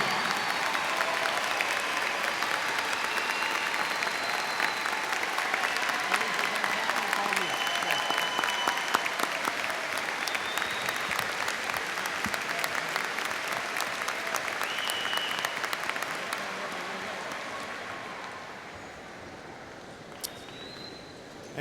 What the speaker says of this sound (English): Let's give these young adults a round of applause